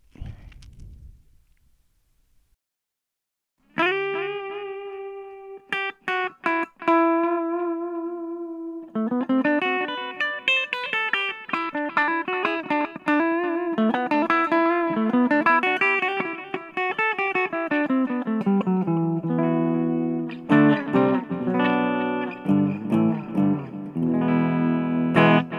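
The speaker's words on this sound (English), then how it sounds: "okay, that was the delay." Electric guitar notes ring out through a Roland Micro Cube amp with a long delay effect, repeats trailing after each note, following a brief silence at the start.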